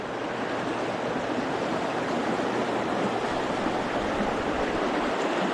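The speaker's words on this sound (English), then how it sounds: "Beautiful creek." Alarka Creek flows in a steady, dense rush of water close by, unbroken and fairly loud with no voices over it.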